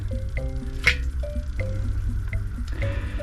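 A pipe pushed down into a deep, wet, hand-dug well hole on a garden plot, giving soft squelching and wet sucking noises with scattered drips and small ringing pings, close up and with no talking.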